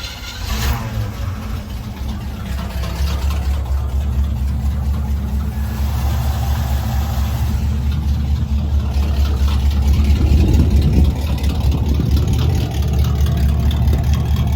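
Chevrolet squarebody truck engine idling on a freshly rebuilt carburetor, a steady low mechanical rumble that holds evenly throughout and swells slightly louder toward the end, with no talk over it.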